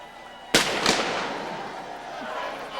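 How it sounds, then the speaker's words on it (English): A ceremonial cannon fires from a parade boat during a nighttime winter boat parade, two sharp loud blasts about a third of a second apart, followed by a long rumbling decay over crowd noise. "They shoot the cannon, and they all fall down."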